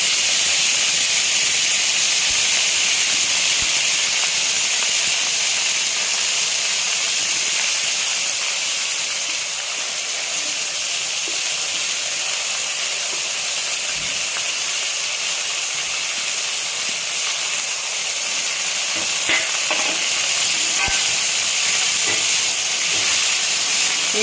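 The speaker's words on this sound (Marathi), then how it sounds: "तेल गरम झालेलं आहे आता मेथी टाकून घेते" Fenugreek leaves dropped into hot oil for a methi masala give a loud, continuous broadband sizzle that holds steady and close for over twenty seconds, with no talking.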